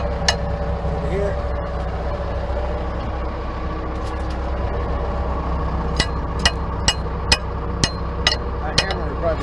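A steady engine rumble runs throughout, and near the end a hammer strikes metal about seven times in a quick, regular rhythm.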